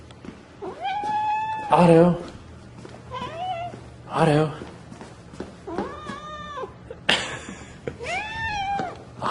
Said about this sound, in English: He's meowing and following me.